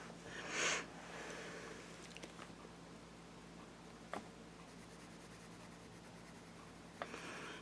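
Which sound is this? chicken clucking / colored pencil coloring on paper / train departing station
colored pencil coloring on paper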